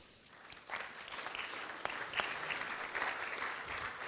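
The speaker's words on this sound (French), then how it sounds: "Et la réalisatrice du film, Monique Seman, qu'on peut applaudir aussi" Audience at a film screening and debate applauding, a moderate, steady patter of clapping lasting about four seconds, with a few sharper claps standing out.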